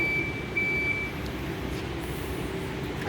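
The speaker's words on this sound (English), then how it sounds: "So our reverse beeper is an audible safety device" A forklift's reverse beeper sounds a few evenly spaced electronic beeps over a steady engine idle, then stops while the engine keeps running, fairly close.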